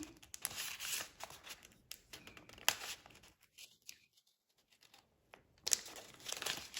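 A torn paper cash envelope is handled up close in bursts of crinkling and rustling, broken by a short quiet pause before the paper noise returns, with no talking.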